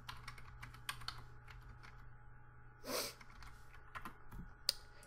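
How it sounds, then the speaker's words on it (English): Computer keyboard typing an IP address for a PS3, sparse quiet key clicks in short bursts, close and faint, with a brief breathy rustle midway and no talk. "and then type your PS3's IP"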